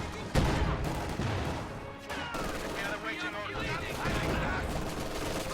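Rapid MG42 machine gun fire in a World War II strategy game, dense rattling bursts with explosions layered in, continuous and fairly loud amid battle noise while someone talks over it.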